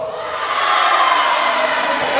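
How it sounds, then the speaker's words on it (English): Crowd of high school students at an assembly cheering and shouting in a loud, continuous roar that holds steady throughout. "This is where the crowd is."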